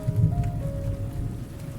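Rain falling steadily, a soft low patter on a surface with a faint distant rumble, brief and alone without voices.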